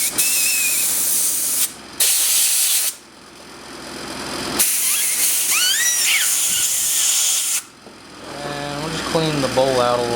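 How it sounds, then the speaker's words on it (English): Compressed air hisses in several bursts through a Honda GC190 carburetor during a repair, loud and close with short pauses between blasts. "Run some compressed air through it."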